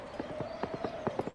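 Hollow coconut halves clapped together in a trotting horse imitation, about eight to ten sharp clip-clop knocks in an uneven galloping rhythm, close and fairly loud.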